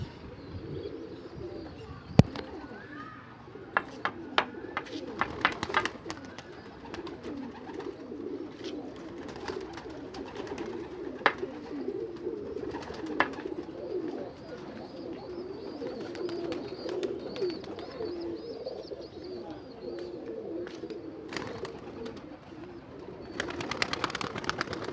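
Pigeons coo softly and repeatedly outdoors, a low murmuring chorus with scattered faint clicks and light wing or movement sounds throughout.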